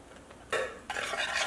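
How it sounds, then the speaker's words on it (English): A spoon stirs basil oil into maltodextrin powder in a bowl, giving two short, close scraping bursts of mixing after a quiet start. "all you need to do is just stirring like this, and you can notice it becomes a basil oil powder"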